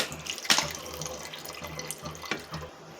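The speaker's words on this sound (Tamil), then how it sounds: "புளியை தண்ணியை அதில் ஆட் பண்ணிக்கலாம்" Tamarind water is poured into a simmering dried fish curry, a soft, steady splashing trickle with a few brighter splashes, fairly faint and with no voices.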